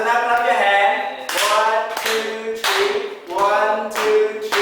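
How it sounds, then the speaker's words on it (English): Students clap their hands together in a classroom, a series of loud, close claps in an even rhythm, with voices chanting along between the claps. "So now clap your hand."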